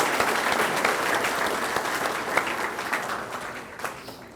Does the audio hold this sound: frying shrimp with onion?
no